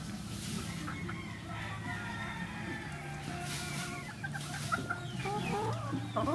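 Japanese Shamo giant chickens of the Dumpo line cluck and murmur in a yard, with soft overlapping calls at moderate distance and a faint low voice in the background.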